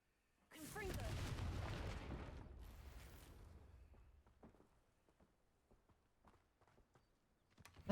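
A Confringo blast spell in Hogwarts Legacy erupts as a sudden loud boom that rumbles and fades over a few seconds, followed by scattered footsteps and small knocks.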